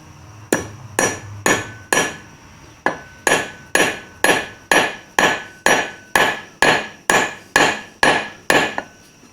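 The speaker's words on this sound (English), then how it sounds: "Hit her with the brass hammer." A brass hammer raps a clutch part into place on an MGA with a machined flywheel, about sixteen sharp metallic strikes at a steady pace with a short pause near the start. The blows are close and loud, and no one speaks.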